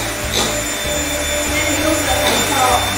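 An electric mixer at high speed whirs steadily, beating egg whites for a Japanese cheesecake, with a continuous buzzing drone and a few scraping touches against the bowl.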